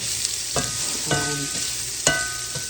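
Diced onion sizzling in hot oil in a skillet, a steady fry hiss with a few sharp clinks of a utensil against the pan, close and with no talk.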